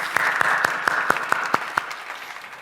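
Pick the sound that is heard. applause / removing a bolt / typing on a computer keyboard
applause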